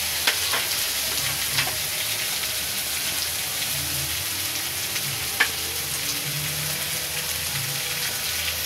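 Chopped onions fry in a pan with black cumin seeds until reddish, giving a steady, close hiss of sizzling oil with faint occasional ticks and pops throughout.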